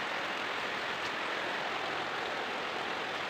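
Steady rain falls outdoors during the cleaning of a guppy fish tank, an unbroken, even hiss of heavy downpour with no pauses or distinct drops, and no voices.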